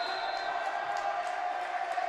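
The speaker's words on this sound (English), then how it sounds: "A big applause here from this Humber audience watching." A basketball crowd in a gym applauding and cheering, a dense continuous roar of clapping and voices with a few faint whoops rising above it.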